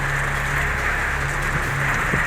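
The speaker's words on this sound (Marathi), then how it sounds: "वादळी वाऱ्यासह पावसाला सुरुवात झालेली आहे" Heavy rain driven by stormy wind sweeps over Dughora village in Washim district, Maharashtra, as a loud, steady, dense hiss with no voices.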